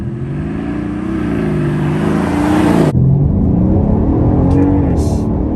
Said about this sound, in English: build up the RPMs, let the turbo kick in